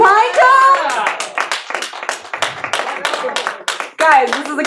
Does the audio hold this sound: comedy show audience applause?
yes